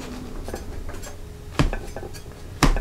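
Cutlery clinks and scrapes against a pan while an upside down pizza is cut in it, with soft scraping followed by two sharp metallic knocks close by.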